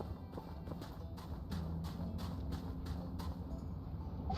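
Horse hooves clip-clopping in a video game, a regular rhythmic series of moderately loud hoof taps over soft game ambience, with no talking.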